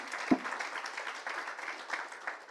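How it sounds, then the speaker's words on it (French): Audience applause at a French e-retail and marketing conference, a burst of clapping from the crowd that starts with one sharp clap and carries on steadily at moderate volume for a couple of seconds. "Merci Christophe, on peut l'applaudir."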